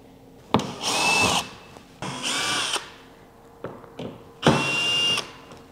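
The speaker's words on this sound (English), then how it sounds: "taking out the dummy screws" A power drill backs out dummy screws on an SKF steering kit in three loud, whining bursts of about a second each, with short quiet gaps between them and a faint tap near the end.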